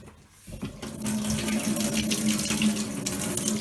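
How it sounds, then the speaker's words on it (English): A kitchen tap runs into a sink to rinse salt cure off fish, starting abruptly after a quiet moment and then gushing steadily and loud nearby, alone without talk. "So the next stage is to wash all of this cure off of the fish."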